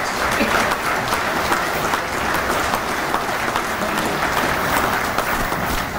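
Steady, dense applause from an audience at an American Legion live event, filling the whole stretch at a loud, even level with no pauses.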